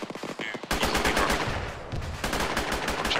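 Sustained automatic gunfire in the Arma 3 combat game, a dense, loud stream of rapid shots with overlapping bursts and echoing reports, nearly continuous with brief dips, after a short quieter opening.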